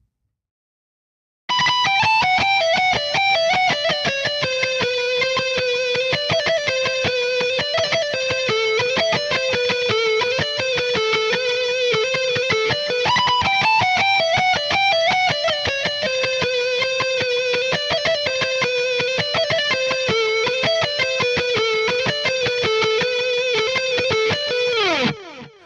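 An electric guitar plays a harmony line, a third above the main riff, as a steady run of fast, distorted, tightly picked notes held for about 24 seconds with no talking.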